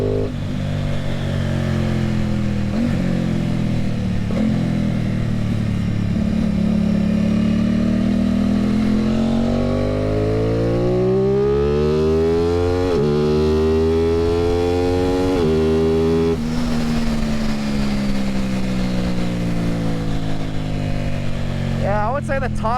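An Aprilia Tuono 660 fitted with an aftermarket eBay exhaust pulls through the mid-range as the throttle rolls on, its engine note rising and falling steadily, loud and close, with a rider talking over it.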